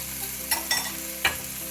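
Tomato puree being stirred in a frying pan, with a few brief scraping strokes of the utensil over a steady low sizzle, close and fairly quiet, without speech.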